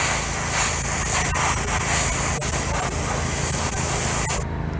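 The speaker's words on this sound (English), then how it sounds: "you want to spray it on until it becomes milky looking" A steady, loud hiss of Createx paint being sprayed continues for several seconds, broken by a few faint clicks, then stops abruptly.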